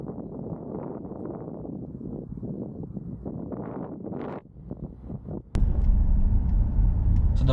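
A car drives around a driving test centre in Colton, Leeds: steady interior engine rumble with wind and road noise, which jumps suddenly to a louder, heavier drone partway through.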